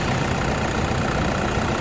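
A Toyota Hilux Vigo Smart Cab 2.5 pickup truck engine idles steadily and close by, a continuous low rumbling hum with no change in pace over a couple of seconds.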